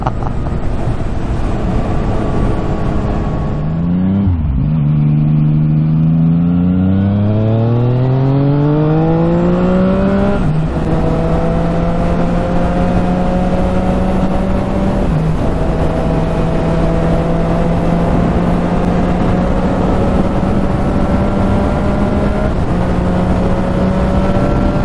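A Yamaha XSR900 motorcycle revs hard while riding, its engine pitch climbing steadily through several gear changes, with brief drops between gears, over constant loud wind rush.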